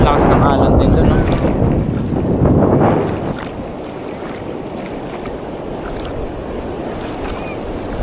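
Strong waves break on a rocky shore at Casiguran, a loud roaring surge for the first few seconds that eases into a steadier rushing wash, with wind buffeting the microphone throughout.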